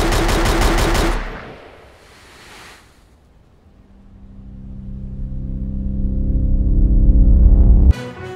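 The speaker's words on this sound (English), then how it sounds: "has been shot and killed today along with his employee, SpongeBob SquarePants." Gunfire in a cartoon scene opens with a loud, rapid burst of shots close by that cuts off within a second, followed by a hiss and then a rising, rumbling swell.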